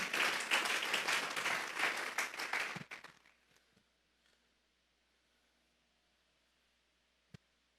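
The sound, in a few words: congregation applause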